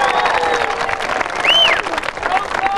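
A street performance crowd in New Orleans breaks into fairly loud clapping and some cheering that lasts the whole moment, with a whistle-like tone rising briefly over it.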